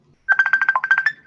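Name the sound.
phone ringtone interrupting a Zoom class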